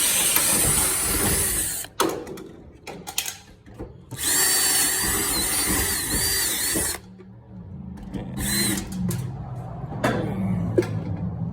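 A rivet gun is used on a budget race car build, making loud, close mechanical whirring bursts of a few seconds each, separated by short pauses and quieter clicks.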